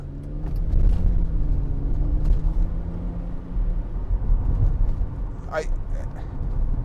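A 2006 Mercedes-Benz SLK280 with a 7G-Tronic automatic is driven along, its engine a low rumbling drone that rises in pitch and then settles, with a short chirping sound near the end.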